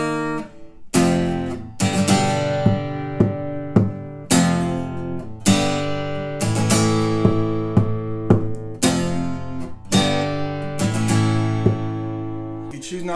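Transitional chords from a song are strummed on an acoustic guitar in a steady rhythm, each bright, full chord ringing out clearly, with no talking over it.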